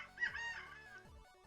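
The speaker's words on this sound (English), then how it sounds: "Rooster's right outside." A rooster crows once outdoors, a faint, distant cock-a-doodle-doo rising and trailing off in a quiet setting.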